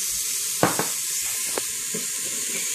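Spices sizzle in the hot Instant Pot while being stirred, a steady bright hiss close by broken by a few scraping strokes of a utensil against the pot.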